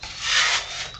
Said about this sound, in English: It'll only take a couple little taps with a sanding block.